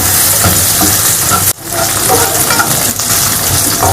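Loud, steady sizzling of rice frying in hot ghee with stirring scrapes, broken by a brief hush partway through before the sizzle resumes.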